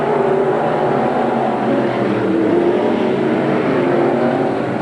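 Pro stock race cars roar around the track at Merrittville Speedway in a 1989 heat. The engines make a loud, continuous, dense drone that holds steady throughout with no pauses.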